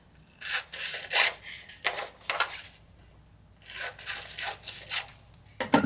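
A printed book page is trimmed by hand for a mini journal, heard as repeated close, dry scraping and rustling bursts of paper being cut, with short pauses between strokes.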